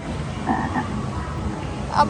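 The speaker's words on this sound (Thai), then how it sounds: "กบกบกบ" Frog-like croaks come from a toy area of a Big C supermarket in Mukdahan: two soft croaks early on, then a louder, sharper one near the end, over low store noise.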